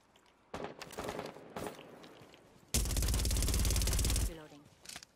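Suppressed gunfire in a competitive video game match: a few short muffled bursts, then a long, loud, continuous stream of rapid shots that cuts off abruptly, followed by a brief final burst.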